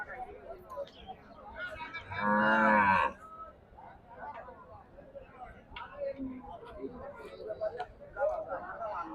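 A bull lets out one loud, drawn-out moo amid a busy outdoor cattle market crowd in Chuadanga, Bangladesh, with people chattering in the background.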